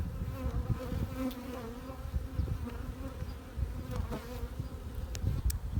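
Dense, steady buzzing of many honeybees close by on a hive frame, a continuous droning hum with no voices.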